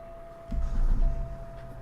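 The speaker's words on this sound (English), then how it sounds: "Hey, truck sounds." A heavy truck engine in the American Truck Simulator video game gives a low rumble that swells for about a second over a thin steady tone, then eases off.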